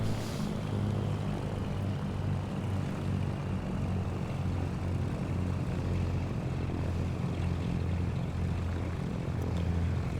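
Propeller aircraft engines drone in a steady, loud, unbroken hum with a low pulsing throb, heard close as if from within a flight sim cockpit, with no voices.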